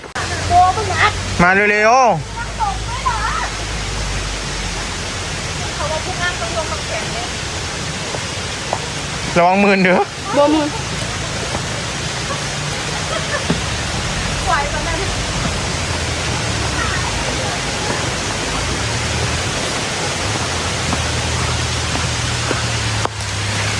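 Waterfall at Phu Kradueng in Loei, Thailand, a steady broadband rush of falling water that continues throughout, with brief bursts of voices over it.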